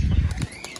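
A brief burst of pigeon wing flaps close by, a quick flurry of soft fluttering that fades within a second.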